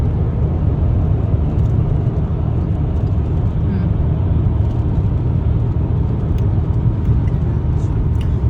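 A family car driving on a six-hour road trip to the Lake District: a steady, close interior road rumble and engine whir that stays constant throughout, with no clear speech.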